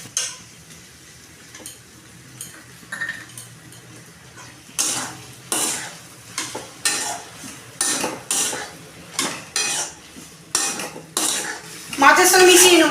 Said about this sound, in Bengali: এবার সেদ্ধ করা আলু দিয়ে দেবো।